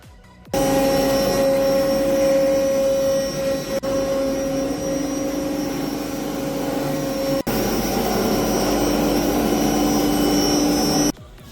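An automatic CNC machine cuts a plate for an illuminated jewelry-store sign, a loud steady whirring drone with a sustained high tone that starts suddenly, holds nearly constant with a couple of brief dips, and stops sharply.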